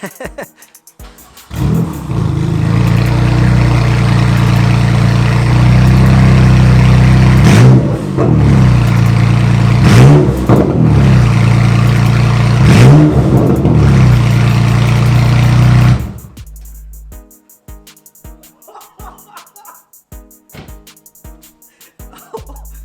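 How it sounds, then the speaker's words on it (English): A loud BMW M3 F80 engine with the exhaust removed roars at close range for about fifteen seconds, revving up sharply several times, then cuts out to near silence with faint clicks. "you want to know how the car sounds without the exhaust that I just took off"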